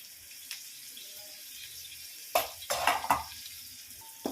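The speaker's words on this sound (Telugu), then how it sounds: "అన్నీ మంచిగా మిక్సప్ చేసుకుందాం." Vegetables for noodles, including carrot, capsicum, mint and coriander, stirred in a hot pan, with a steady frying hiss and a few louder scraping stirs near the end, close up.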